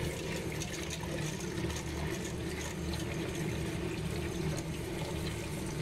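Steady running tap water pours continuously into a pot, a full, even rush with no pauses and no voices.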